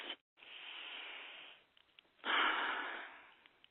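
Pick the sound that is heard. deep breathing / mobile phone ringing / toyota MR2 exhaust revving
deep breathing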